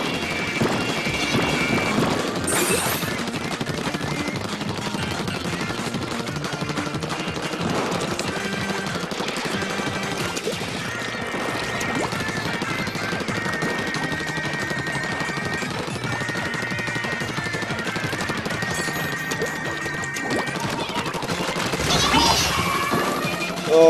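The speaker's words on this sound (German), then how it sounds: "ich habe nur schießen gehört" Rapid bursts of gunfire from the online shooter game Splatoon during a Splatfest finale match, crackling almost continuously at moderate loudness over game music and effects.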